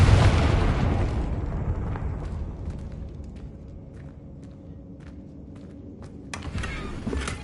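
A big Confringo spell explosion in Hogwarts Legacy, opening with a heavy roaring boom that decays into a long rumble, followed by scattered small crackles and debris pops near the end.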